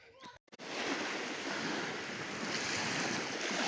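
Sea waves washing onto a beach on the Polish coast, a steady broad rush of surf that swells in right after a brief sharp gap and then holds loud and continuous, with a little wind in the background.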